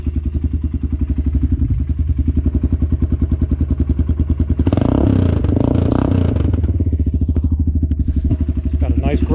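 A Kawasaki Brute Force 300 ATV fitted with a Big Gun Evo U slip-on exhaust on the factory head pipe idles steadily nearby outside a garage, its loud throbbing pulse growing rougher and heavier midway as the engine is revved.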